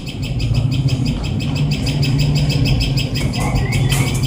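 Sparrows chirp in quick repeated bursts, loud and close, a steady run of bright tweets with no talking.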